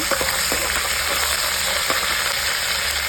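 A handful of curry leaves crackles in hot oil for temple-style tamarind rice, with a constant close sizzle broken by a few sharp pops and spoon taps.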